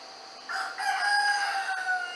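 A rooster crows loud and near, one long drawn-out call with a rising start that holds steady to the end, with no talking.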